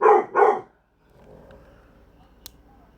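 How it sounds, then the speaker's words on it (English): A dog gives two sharp, close barks in quick succession, followed by a faint, low background hum with a small click near the end. "Well, dog barking."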